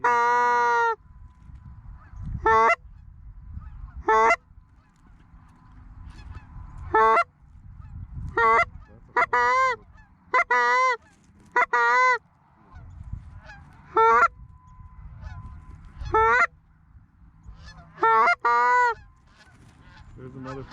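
A flock of geese honks overhead during an opening-day goose hunt. Repeated loud, nasal honks come in clustered bursts over a quiet outdoor background, with a low murmur of hunters underneath.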